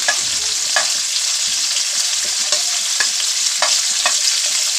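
Fish karahi frying in a wok with garlic and ginger, a steady close sizzle broken by several sharp scraping stirs of a spoon against the pan, no voices.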